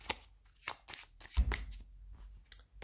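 Oracle cards being shuffled by hand, with quick soft riffles and flicks, then a fuller thud as a clump of cards drops all at once, close and fairly quiet with no talking.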